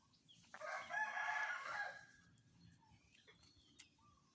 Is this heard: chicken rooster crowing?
yes